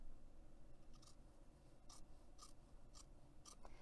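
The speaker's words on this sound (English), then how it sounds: "So I'm just going to basically trim that foam back in half." Scissors trim foam interfacing for a crossbody bag, giving five or six quiet, evenly spaced snips over a faint background hum.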